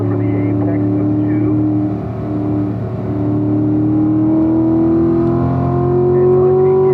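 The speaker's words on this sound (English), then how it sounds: "Downshifting to fourth for my auto drivers." A car on a race track, driven loudly with steady engine drone and rising harmonic pitch through the clip, as if shifting down into fourth for a corner; a voice talks over the engine throughout.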